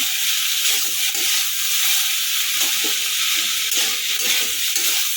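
Winter vegetables and potatoes with dried small fish sizzle loudly and steadily in a pan, with soft stirring knocks and scrapes under the constant frying hiss.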